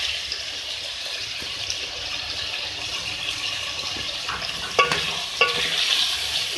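Onions added to beef already fried with ginger-garlic paste for beef masala, giving a steady sizzle with stirring, and a couple of sharp clinks of a utensil against the pan near the end.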